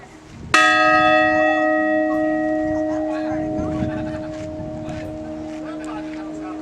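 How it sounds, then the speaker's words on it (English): A bell in the tower of La Purisima Concepcion Mission, rung by children: one loud, sharp strike followed by a long, slowly fading metallic ring, with faint voices in the background. "the children just climbed up into the bell tower to ring the bells"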